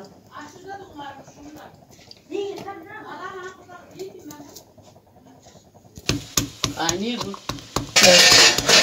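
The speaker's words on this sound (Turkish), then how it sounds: "Sarımsağımızı dövüyoruz şimdi." Garlic pounded for yogurt sauce while making Adana-style manti, a sharp run of loud repeated knocks near the end following a stretch of talk in a home kitchen.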